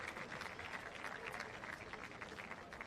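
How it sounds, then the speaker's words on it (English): Fans applauding at a men's college soccer match, Memphis at UCF, as a steady distant wash of clapping from the stands. "The fans giving a well-deserved round of applause to that young man"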